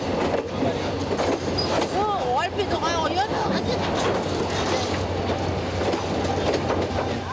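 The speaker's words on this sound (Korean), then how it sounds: "기차가 들어오자마자" A train pulls into Pyeongchon station on the Gyeongjeon line, its steady rolling rumble and rail clatter filling the platform with a few faint wheel squeals, while people talk over the continuous noise.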